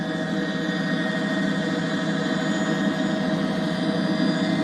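A steady, continuous aircraft engine drone, most likely a helicopter overhead, holding an even loudness throughout with a constant mechanical hum.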